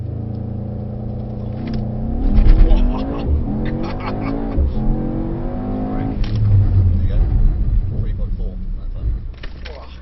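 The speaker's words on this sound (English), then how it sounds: "slam that power down. Let the revs get up to the point, and it's okay to let them bounce off the limiter" A Mercedes-AMG GT63S V8 launches hard on a track, engine revving up and bouncing off the limiter before surging forward, loud and close, with people talking over it throughout.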